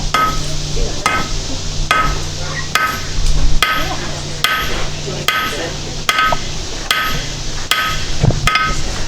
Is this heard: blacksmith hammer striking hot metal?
yes